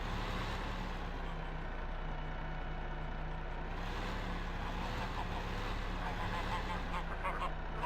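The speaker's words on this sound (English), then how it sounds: "Pick up our geese." Geese honk in Farming Simulator 15, a steady, dense flock clamor mixed with engine-like rumble, continuous and moderately loud throughout with no voices over it.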